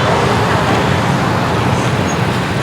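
Dense roadway traffic roars steadily near a shopping mall, a continuous broadband rumble of passing cars, buses and trucks, close and loud with no pauses.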